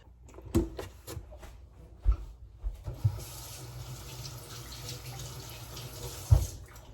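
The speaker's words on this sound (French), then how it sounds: "me voici dans la douche" Water runs in a home shower. Scattered knocks and splashes come first, then a steady broadband hiss of flowing water sets in and continues, close and moderately loud, with no speech.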